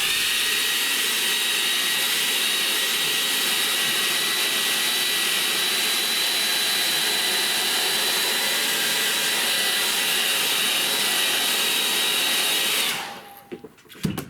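A hair dryer blows steadily on a wet acrylic painting of a shower on the downs, a loud continuous roar that runs unbroken for about thirteen seconds and then cuts off abruptly, leaving faint handling noises.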